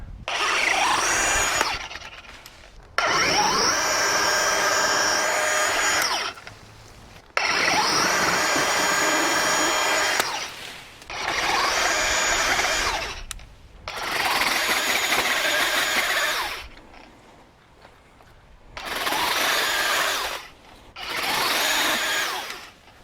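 A DeWalt 60V Flexvolt cordless chainsaw revs and cuts tree limbs in repeated long bursts, each loud, whining stretch broken by brief pauses, close by and continuing for the whole stretch.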